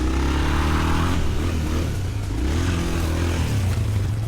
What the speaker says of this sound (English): First dirt bike up here this year.